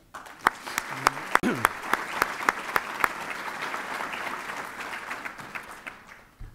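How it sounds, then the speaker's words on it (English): Steady applause from a crowd, dense clapping with a few louder nearby claps standing out, sustained for several seconds. "how about a round of applause for our color guard?"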